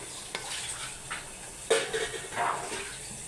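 Silver items and aluminium foil stirred in a cleaning solution, giving a fizzing, sizzling wash with a few sharp scraping strokes over soft bubbling.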